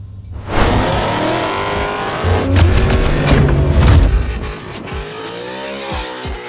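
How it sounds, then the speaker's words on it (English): Ford Mustang Dark Horse fitted with stainless long tube headers drifting on a skid pad, loud revving engine with surging throttle blips and squealing tires, close and intense, then easing off near the end. "We're going to do some drifting."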